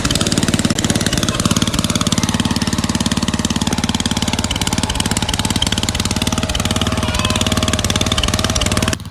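Engine of a Suzuki Vitara pushing a snow plough runs steadily throughout, a loud, close, continuous rumble with a rapid rhythmic chug and no pauses.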